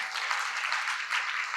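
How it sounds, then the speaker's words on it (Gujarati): A large audience at a temple festival applauds to welcome the speakers, a soft, even wash of many hands clapping at a distance. "તાળીઓથી વધાવો"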